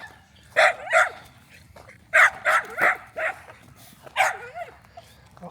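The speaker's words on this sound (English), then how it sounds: "Got a guard dog out here." A guard dog barks repeatedly outdoors, fairly close, in uneven bursts of two, then four, then one more, some barks trailing into a whine.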